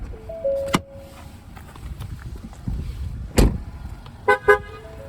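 Inside a 2021 Ford Explorer XLT, the hood latch gets two pulls: a solid thunk and then two quick close clicks, with a short electronic chime tone sounding earlier over a steady low cabin hum.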